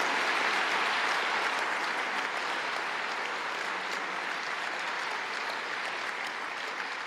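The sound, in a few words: audience applauding master's graduates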